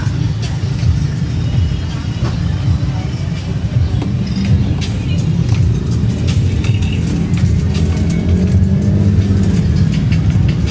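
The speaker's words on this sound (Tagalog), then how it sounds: "Traffic na mga kaibigan." Road traffic at a barangay fiesta in San Basilio, with cars driving past in a continuous, loud engine rumble and road noise that stays steady throughout, with no clear break between vehicles.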